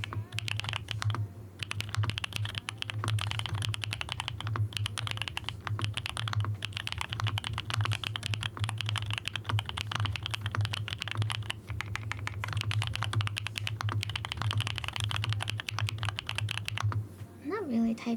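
Rapid keyboard typing clatters steadily throughout, with keys clicking in quick bursts and a low hollow rumble from the spacebar underneath.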